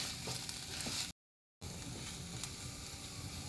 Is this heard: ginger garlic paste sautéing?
yes